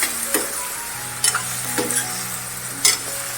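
Ridge gourd pieces stir-fried gently in a pan, a soft continuous sizzle broken by several distinct scraping stir strokes against the pan, close and fairly quiet, no talking.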